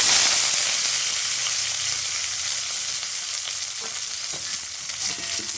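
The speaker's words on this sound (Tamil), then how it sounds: "இப்போ இது எல்லாம் பொரிஞ்சு வரட்டும். பாருங்கள், நல்லா பொரிஞ்சு வருது." Steady, close sizzling of onions and curry leaves frying in hot oil, with faint stirring scrapes and no voices, holding fairly constant throughout.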